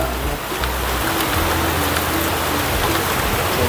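Loud, close rain pouring down in a continuous heavy hiss with no talk over it, the wash holding level from start to finish.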